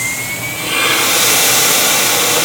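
A turbocompressor air fan spins up, its steady broadband whoosh swelling after about a second, then running loud and continuous like a jet-engine roar.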